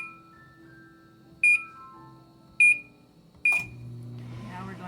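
A kitchen oven control set to preheat for baking at 425 gives three short, loud electronic beeps about a second apart over quiet room noise.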